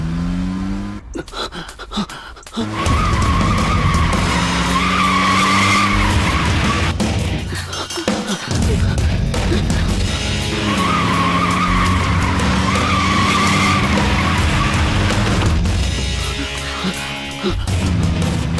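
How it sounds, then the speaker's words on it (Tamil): A car engine starts and revs hard, and the car speeds off with loud, prolonged tire skidding and squealing. The noise is close and dominant, with several surging bursts separated by brief pauses, in a scene from a Tamil film. "ஏய் ஸ்டார்ட் பண்றா. வண்டி எடு."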